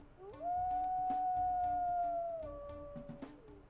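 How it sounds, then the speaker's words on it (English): A wolf in WolfQuest Anniversary Edition lets out one long, steady, high-pitched howl lasting about two seconds before dropping in pitch and trailing off, clear and fairly close against soft game ambience. "he has the longest howl that is really annoying when you're trying to take territory."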